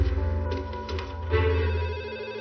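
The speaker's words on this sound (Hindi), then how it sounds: "अरे फोन आया है।" A cartoon telephone rings with a rapid electronic trill that pulses steadily and close, briefly swelling midway, with no voices over it.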